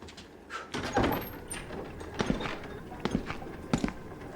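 A secret door opens in a video game, a busy run of clunks, knocks and scraping rattles at moderate level over a steady background for several seconds.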